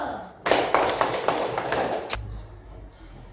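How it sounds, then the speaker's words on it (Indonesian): A school class claps hands together in a quick burst of about a second and a half with a few accented beats, then it stops abruptly and leaves quiet room noise. "Tepuk tangan dulu."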